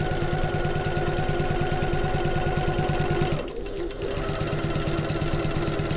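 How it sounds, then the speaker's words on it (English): A sewing machine stitches a fleece backpack seam in a loud, continuous rapid whir, pausing briefly for a pivot before running steadily again up close. "And then we're going to sew up this final line"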